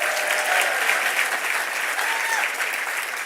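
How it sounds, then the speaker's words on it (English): A crowd at the opening ceremony for the Crosslake light rail connection breaks into sustained applause, a bright, even roar of many hands clapping together that holds steady for the whole stretch. "Give them a round of applause for this day."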